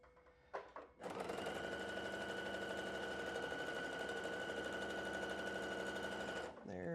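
A sewing machine runs steadily for several seconds while chain piecing fabric quilt blocks for a floral quilt, loud and close, with a short start-up burst and stop.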